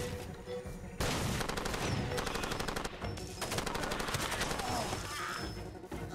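Video game gunfire in Far Cry 2: bursts of rapid automatic shots that are dense and overlapping, with brief gaps between volleys, fairly loud throughout.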